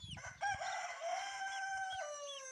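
A rooster gives one long, drawn-out crow close to the microphone, and faint clucking hens are audible in the background of a rural yard.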